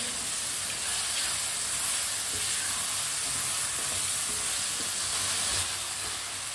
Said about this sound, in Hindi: अब आलूओं को भी 2-3 मिनट के लिए भून लेंगे।